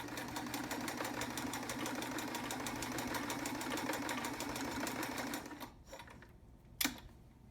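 An overhauled vintage Sears Kenmore 158.13200 heavy-duty sewing machine sews a multi-zigzag stitch, a rapid rhythmic mechanical chatter that runs steadily, then stops, followed by a sharp click.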